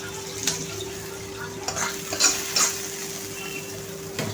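Hot tempering spoon-poured over a cucumber salad gives a low sizzle with clinks of a spoon against a bowl and stirring scrapes, several sharp metallic taps standing out close by.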